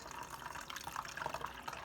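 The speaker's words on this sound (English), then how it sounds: "And now I've added that warm water" Warm water pours steadily into a plastic bottle through a funnel while homemade liquid laundry detergent is being mixed, a soft continuous gushing fill at moderate distance, with no talking.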